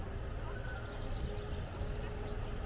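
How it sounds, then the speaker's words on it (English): A horse neighs at an outdoor riding area in a village in Azerbaijan, the whinny faint and set back against a steady wash of broadband outdoor noise. "And then you've got the horse riding. There's a lot of horse riding here."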